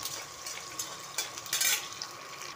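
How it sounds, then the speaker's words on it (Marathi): Green chilies and garlic roasting in hot oil in a pan, giving a soft continuous crackle and sizzle with a few stirring scrapes, fairly quiet and close. "हिरवी मिरची, लसूण हे सगळं चांगलं भाजून घ्यायचं."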